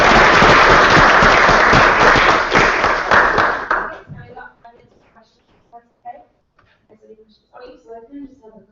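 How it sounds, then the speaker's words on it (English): Round of applause at a USAC student government meeting, loud dense clapping for about four seconds that cuts off, followed by scattered faint voices and room noise. "let's give a round of applause first"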